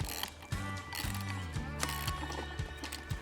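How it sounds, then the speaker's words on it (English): A wrench tightens a nut to mount a guide on a portable fencing reel, giving rhythmic ratcheting clicks in short repeated strokes, close and fairly clear, with no talk. "we'll just put our wrench on the bottom"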